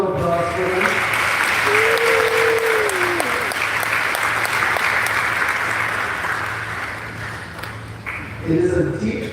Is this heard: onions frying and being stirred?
no